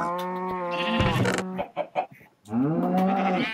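Sheep in the video game Feed The Beast let out two long, wavering bleats separated by a brief pause with faint clicks, close and loud with no talking.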